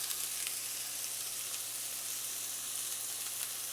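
Burger patties sear in a hot pan, giving a steady, dense sizzle that holds at an even level throughout, close up and with no talking.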